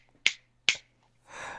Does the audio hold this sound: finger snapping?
yes